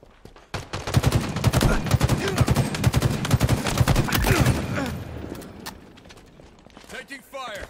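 Automatic weapons firing during a Halo Infinite multiplayer match, with dense rapid bursts, loud and close, thinning after a few seconds into scattered shots. Game voice lines sound over the shooting.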